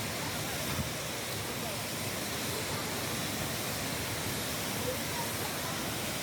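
A waterfall at Kolakham pours down and throws spray in a broad, constant roaring hiss, loud and unbroken, with no other clear sounds.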